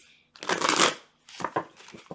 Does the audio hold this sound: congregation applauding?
no